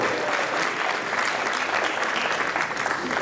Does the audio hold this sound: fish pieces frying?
no